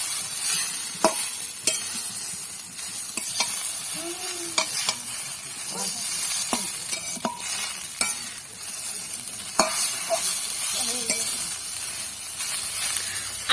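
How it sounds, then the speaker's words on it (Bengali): Egg chowmein is fried and stirred in a pan. A steady sizzle runs underneath while a utensil scrapes and taps at irregular intervals, close and moderately loud, with faint speech in places. "এবার আরো একবার আমরা ভেজে নেবো এটাকে।"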